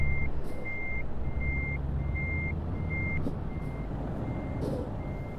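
Truck reversing beeps in Euro Truck Simulator 2 multiplayer, a steady run of evenly spaced electronic beeps over a low, constant engine rumble, with no talking.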